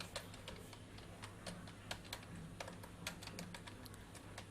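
Steady typing on a computer keyboard, light irregular key clicks close by with a few sharper taps, continuing evenly over a low background hum.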